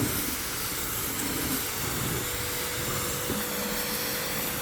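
A pressure washer sprays at low pressure while washing a car's wheels under a hot sun, giving a steady, unbroken rushing hiss that holds an even level throughout with no voices.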